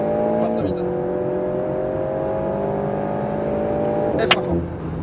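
Alpine A110S on a race circuit, its engine note climbing steadily and loudly close up, with a gear change partway through and a brief sharp burst near the end, while an instructor talks over it.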